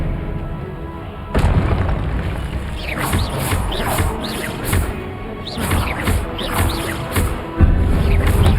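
A magical spell bursts in the Hogwarts Legacy video game, loud booming impacts hitting around 1.4 s and again near 7.6 s amid dense, crashing game effects and sharp crackling bursts throughout.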